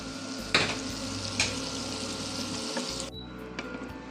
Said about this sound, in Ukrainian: На розігріту сковорідку викладаємо масло вершкове та розігріваємо.